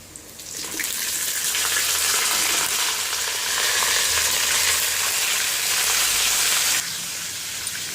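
Brinjal pieces hit hot oil with onion and curry leaves, giving a loud, steady sizzle with stirring scrapes that holds for several seconds and then drops back near the end; no one talks.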